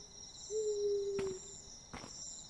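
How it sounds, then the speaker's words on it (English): A single owl gives one long, steady hoot at night beside a lake in the Dolomites, fairly near, over constant insect chirring, followed by a couple of brief rustles. "A singular owl."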